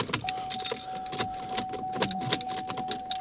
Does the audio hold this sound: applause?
no